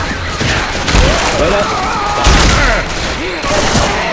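Dense bursts of video game gunfire from Left 4 Dead 2 pound through a swamp level, loud and continuous with heavy thumps, while players talk over the shooting.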